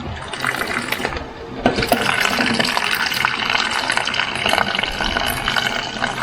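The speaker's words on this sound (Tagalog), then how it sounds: "Lagyan ko lang siya ng tubig ng bahagya." Water splashes and pours steadily into a cooking pot holding bananas, a continuous close rushing and gurgling that keeps going without a break.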